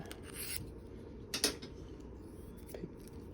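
Chikamasa curved-blade trimming scissors are honed to take off a burr, with faint scraping strokes of metal over a quiet background and a few brief rasping bursts near the start and middle.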